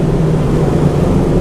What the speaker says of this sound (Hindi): ये सिर्फ निंजा अकेले की आवाज़ है।